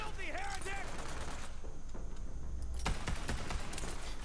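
Gunfire from a weapon in the video game Borderlands 3, sharp repeated shots scattered through the clip, densest near the end, mixed with game effects and a voice in the background.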